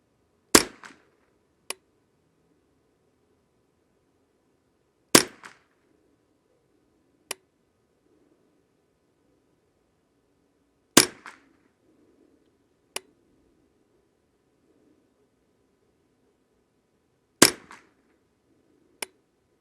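Five sharp rifle shots from a Ruger 10/22 firing .22lr Exakt ammunition, evenly spaced several seconds apart, each a crisp crack with a short echo, with quieter clicks between shots and a low steady hum underneath.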